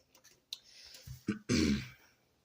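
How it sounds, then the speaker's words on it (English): A single harsh cough, short and fairly close, preceded by a few quieter throat noises and breaths in an otherwise quiet indoor setting. "bit of a cough"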